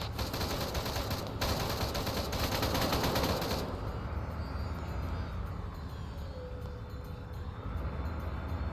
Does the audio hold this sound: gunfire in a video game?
yes